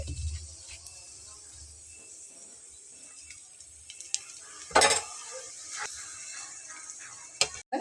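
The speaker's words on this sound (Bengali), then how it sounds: "তো এখন আমি আলুটাকে ফোড়ন দিয়ে দেবো এটার ভিতরে।" Mashed boiled potato being stirred into a hot spice tempering in a pan, with quiet scraping and light clinks of a spoon on metal, a few sharper knocks standing out over a soft background sizzle.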